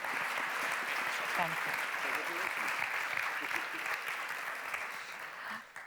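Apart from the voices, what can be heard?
audience applause at a conference closing session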